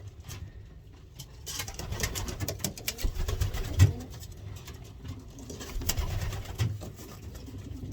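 Racing pigeons in a loft cooing in low, rolling bursts, with soft fluttering and shuffling, close by and moderately loud, with no voices.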